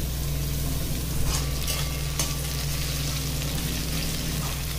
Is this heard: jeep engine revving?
no